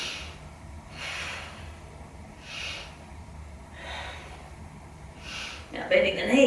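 Slow, deliberate breaths during a standing yoga balance pose, several rhythmic inhales and exhales close to the mic, with a brief louder sound at the end.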